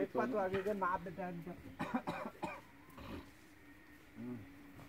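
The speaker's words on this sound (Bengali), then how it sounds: "আমার এমনি কাশি সারছে না" Someone coughs several times in a village home in Bangladesh, short harsh bursts mixed with speech at the start, followed by softer isolated coughs and throat sounds at moderate distance.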